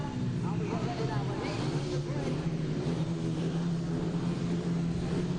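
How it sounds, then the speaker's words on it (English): Speedway motorcycles lined up for the start of a heat at a National League meeting between Isle of Wight and Plymouth, engines giving a dense, steady revving drone throughout, with voices over it. "the bikes are revving away, and away they go"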